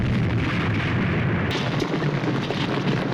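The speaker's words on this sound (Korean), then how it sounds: "차량들과 함께 폭발해버리죠." Vehicles blow up in a classic Hong Kong horror film, a dense, roaring blast with rumbling debris and crackling fire that stays loud and continuous, with a sharp burst midway.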